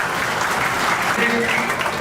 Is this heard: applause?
yes